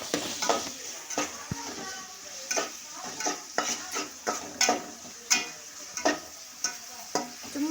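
Finely chopped tomatoes sizzle in a pan for a mutton masala while a spoon stirs and scrapes them in repeated strokes, close and steady, with faint clinks of metal and no talk.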